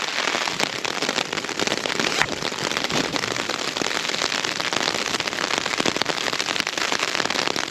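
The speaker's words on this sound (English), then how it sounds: "The rain's coming early." Rain patters steadily and densely on a lightweight 1 kg two-person tent, a constant close crackling patter with no voices.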